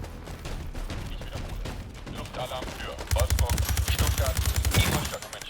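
Automatic Beryl 762 rifle fire in the online shooter World War 3, rapid bursts that build into a loud, sustained stream of shots over constant game noise, with faint background sound.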